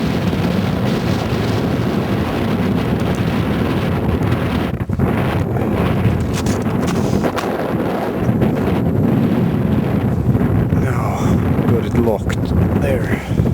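Strong wind roars across open ice on a cold day below freezing during net setting under the ice, buffeting the microphone with a constant loud rumble and gusty low turbulence throughout.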